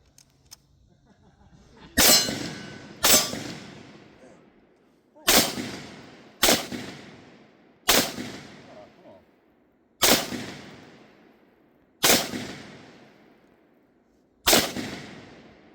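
Gunshots ring out at a firearms training range, the rounds clanging off a metal target post, eight sharp loud reports with clanging tails spaced a second or two apart.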